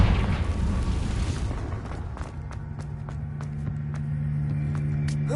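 A Confringo blasting spell explodes in Hogwarts Legacy, a loud broadband burst rumbling over the first second and a half, then fading into a steady low hum scattered with small clicks and ticks.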